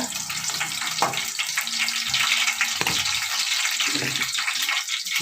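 Green chilies and tempering seeds frying in hot oil give a steady, close sizzle with a few louder crackles and stirring bursts, no voice over it.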